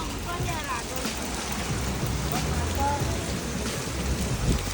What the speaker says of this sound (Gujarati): તો ખતરનાક વરસાદ ચાલે છે અહીંયા